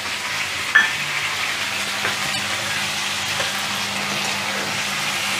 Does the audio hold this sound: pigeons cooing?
no